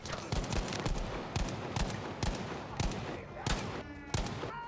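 Dense, continuous gunfire in Battlefield V, a World War II shooter, with sharp repeated shots cracking from all sides over constant loud battle noise and a brief whistling sound near the end.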